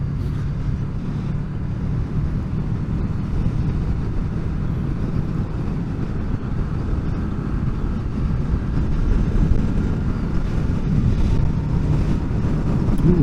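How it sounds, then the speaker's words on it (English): Steady low rumble of wind blowing across the microphone up on the fells, continuous and fairly loud throughout, without any voices. "It's a bit windy up on the fells here."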